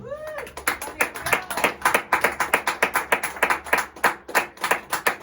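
A church congregation claps in steady unison rhythm during a Spanish-language sermon, with crisp repeated hand claps at a brisk even pace over a low hum and faint voices.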